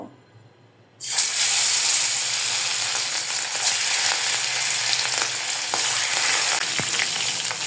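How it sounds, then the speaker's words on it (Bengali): After a quiet second, chicken pieces hit hot oil and a loud, steady sizzle takes over, crackling continuously up close. "তেলটা গরম হয়ে গেছে এখন আমি এক এক করে মাংসটা ভেজে তুলে নেব"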